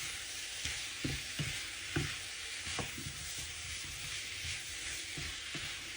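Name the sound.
potatoes with masala and spring onions sautéing in a pan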